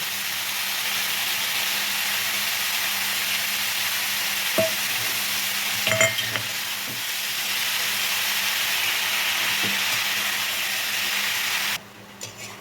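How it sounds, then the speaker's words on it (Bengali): Mixed vegetables with spinach stirred in a pan for a Bengali labra curry, giving a continuous hissing sizzle with a few sharp utensil clinks and scrapes, near and without speech. "সমস্ত সবজিগুলো নেড়ে চেড়ে মিশিয়ে দিলাম।"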